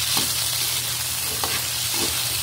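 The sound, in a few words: potatoes and carrots frying in a pan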